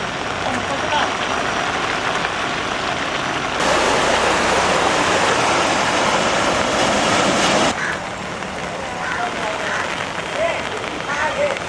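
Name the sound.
floodwater rushing through Panaji city after heavy showers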